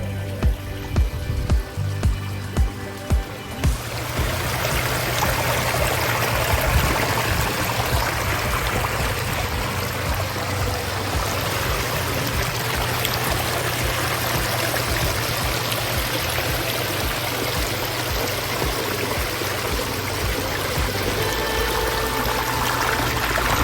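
A backyard waterfall fountain pours and splashes in a steady, full rush after a few sharp knocks at the start, running continuously close by.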